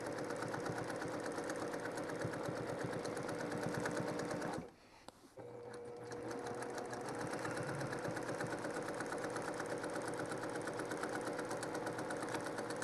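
A sewing machine quilts down the background of a fabric panel during trapunto quilting, running in a fast, steady stitching buzz, stopping briefly partway through, then resuming at the same even pace.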